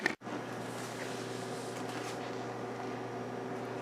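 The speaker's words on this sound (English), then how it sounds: "This goes in the microwave, and it's going to cook until we can fluff it with a fork" A microwave oven hums steadily after its door shuts with a click, cooking food in a home kitchen, a constant low drone with no talk.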